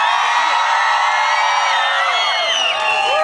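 A concert crowd at the Znamenka city day celebration cheers and applauds in a dense, steady roar, with whistles and high whoops rising above it throughout.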